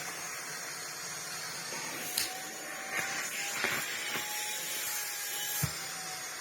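A Greenote GSC60 cordless vacuum cleaner runs with a steady high-pitched whine and airy hiss, broken by a few short bumps and clunks against a sofa.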